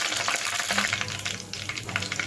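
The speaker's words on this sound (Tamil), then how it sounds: "பிரிஞ்சி இலை, கசகசா, நம்மளுக்கு எல்லாமே நல்லா கொஞ்சம் எண்ணெயில் ஃப்ரை ஆகட்டும்" Cinnamon sticks, bay leaf and poppy seeds fry in hot oil for mutton chukka, a loud close crackling sizzle with quick popping bursts and stirring noise throughout.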